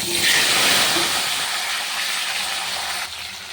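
Potatoes added to a wok with fried pomfret fish and cumin paste hiss in hot oil, a loud, steady sizzle close by that eases slightly toward the end.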